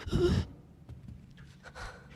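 A character in Resident Evil 9 lets out a sharp, heavy breath or gasp up close, followed by quieter, faint panting breaths.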